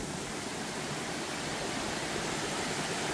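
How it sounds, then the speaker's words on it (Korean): Waterfall in a Korean mountain valley at Myungji, a steady broadband rush of falling water that stays loud and even throughout, with no voices over it. "이런 폭포들이 형성이 돼 있고"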